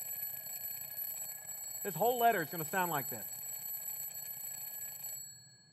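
An alarm clock rings continuously with a steady, high electronic tone while a voice speaks over it midway, and the ringing cuts off shortly before the end.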